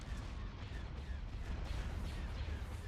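Rumbling artillery barrage pounds a base in the Star Wars game Thrawn's Revenge, a dense, continuous roar of blasts and fire with no pauses, loud and close throughout.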